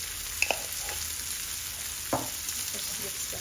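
Ampalaya with seasoning is stirred in a pan, a steady low frying hiss with a couple of brief utensil clinks and one scrape, heard close with no talking.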